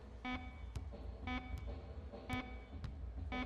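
An end-of-half buzzer sounds in an NBA Live 19 All-Star basketball game: short repeated tonal blasts spaced about a second apart, with sharp clicks between them, faint under arena noise.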